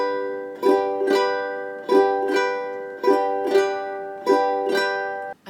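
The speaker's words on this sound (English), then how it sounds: "I do a little twist with my wrist as I come up with my thumbnail." A ukulele is strummed in a slow, even pattern of Too Ra Loo Ra Loo Ral, the Irish lullaby, with upstrokes played by the thumbnail and a wrist twist. Five bright, close chord strums ring out and decay, with no talking.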